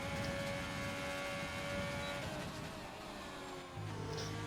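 Ferrari-powered race car in a league racing video game at the Brazil round, engine droning at high revs down the straight, loud and steady, with a slight dip and shift in pitch near the end.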